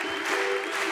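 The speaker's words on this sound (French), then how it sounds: "un tonnerre d'applaudissements pour Mathieu, alias Guillaume Batz!" Audience at a comedy show applauding a comedian's introduction, a full, sustained burst of clapping filling the room, loud and even for the whole moment.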